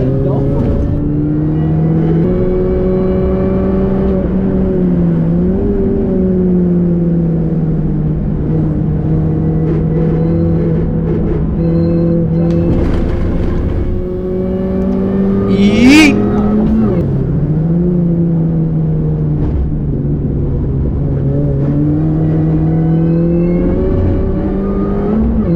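A Mini Cooper S R53 engine drones loudly and steadily on a race track, its pitch rising and falling through revs, with a brief sharp squeal partway through.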